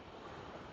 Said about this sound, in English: Look at all them waves crashing